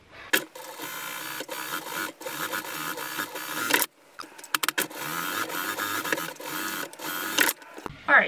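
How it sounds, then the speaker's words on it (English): Sewing machine running in continuous bursts as it stitches a half-inch seam across fabric for a small-animal carrier bag with mesh sides, with brief pauses between runs, close and moderately loud. "You're going to go to your sewing machine. You're going to stitch all the way across"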